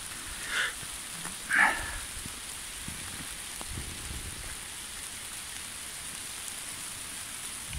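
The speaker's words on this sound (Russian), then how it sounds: "Сейчас покажем, какой дождь." Steady rain hissing and pattering on surfaces nearby, with a couple of brief chirps early on and no voices.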